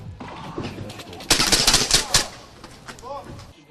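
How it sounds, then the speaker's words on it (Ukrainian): Rapid bursts of airsoft training gun fire crackle in close, sharp volleys, with voices talking around them. "Тренувальна зброя стріляє страйкбольними кульками."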